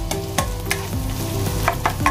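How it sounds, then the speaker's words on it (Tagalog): Garlic, ginger and onion sizzle loudly in a hot pan, with a spoon stirring through them in steady, repeated scrapes over the continuous frying crackle. "Yan, haluin lang natin ng maayos."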